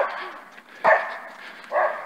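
A dog barks twice in short, loud bursts during a stroll in Marseille, with someone talking in between.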